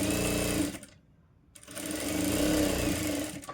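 A sewing machine runs loud, close bursts of long basting stitches on a blouse, stopping for a second before resuming with a steady whir.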